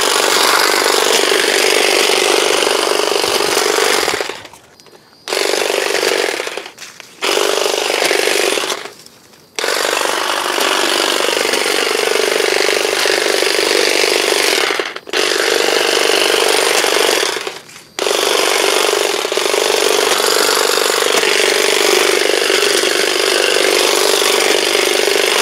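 A power hedge cutter or saw runs loudly and close while cutting through hedges, holding a continuous roar broken by a few brief pauses where the trigger is released, with no talk.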